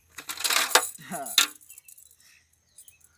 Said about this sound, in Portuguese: Olha as moedas, tem moeda.